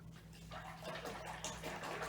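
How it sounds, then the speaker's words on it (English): Watercolor round brush swished and rinsed in a water container, a steady close sloshing and splashing with soft trickles throughout, no voices. "clean it really good, pick up some water"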